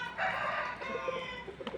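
A rooster crows in one long, loud call, with a few short clucks and a second fainter crow close behind.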